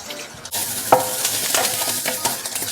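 Onion stir-fried in hot oil with ginger and garlic in a wok, a steady close sizzle broken by sharp scraping and clanking strokes of the spatula against the pan, with no voices.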